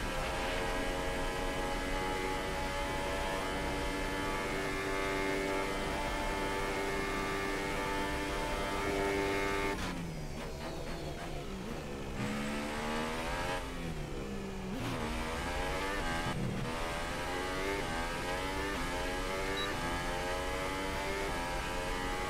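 Formula 1 race car engine in the F1 2018 video game, a loud sustained high whine that holds steady, then drops and surges through rapid gear shifts and revs, with no talking.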